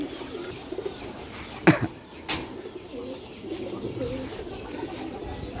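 Male pigeon cooing softly in a loft, low murmuring coos with a couple of sharp knocks near the middle, some talk around it.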